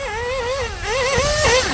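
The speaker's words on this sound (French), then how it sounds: "ce moteur là rigole pas" A competition nitro engine on an RC buggy revving hard, a high buzzing whine that rises and falls in quick wavering sweeps, loud and close with no talking.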